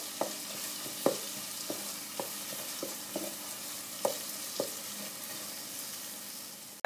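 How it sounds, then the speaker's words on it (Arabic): Frying in a pan gives a steady close sizzle as a dish of tchich with cauliflower cooks, with regular light clinks and scrapes of stirring through it. "دقيقتين هكاكا خليها تتقلى دقيقتين."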